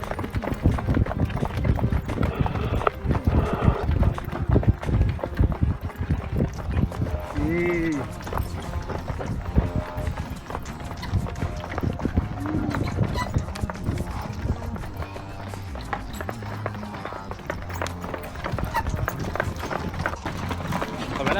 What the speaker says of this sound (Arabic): كيفني وأنا أسوق الحصان؟